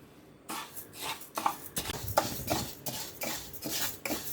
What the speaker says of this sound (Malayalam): നമുക്കിതിനകത്തേക്ക് പയറൊന്ന് വറുത്തെടുക്കാം.